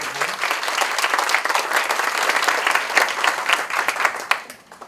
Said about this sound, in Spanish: Un aplauso para Maggie.